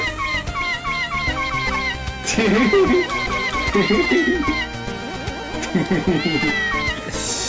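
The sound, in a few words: cat meowing sound from Mega Man Maker video game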